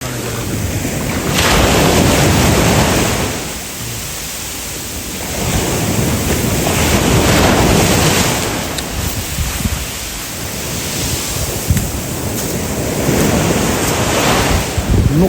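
Sea waves breaking on the shore at Alanya, a loud, continuous rushing wash that swells and recedes in slow surges, with wind buffeting the microphone.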